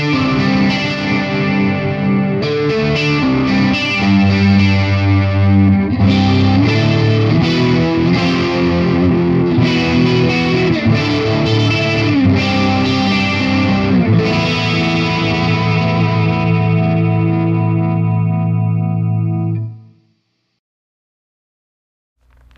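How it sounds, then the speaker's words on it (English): Hand-wired RockNRoll Amps CR60 guitar amplifier driven through an Analog Man chorus pedal, playing a slightly distorted, shimmering chorused guitar line with strummed chords and ringing notes, loud and close, before cutting abruptly to silence near the end. "Let's take a listen to the CR60 with the Analog Man chorus."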